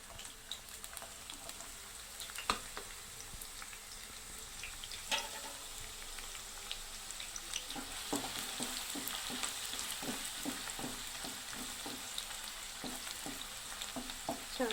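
Finely chopped onion fries in oil in a pan for mixed bhaji, giving a steady close sizzle with a run of sharp scrapes and clicks from stirring toward the end, no voices.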